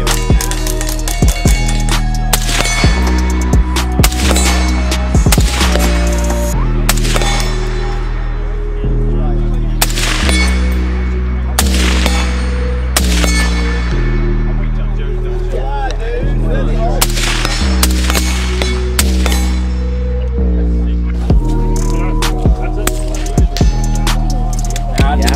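A left-handed Seekins Precision AR rifle fired at an outdoor shooting event, with a rapid series of loud, sharp cracks in irregular clusters and occasional voices between them.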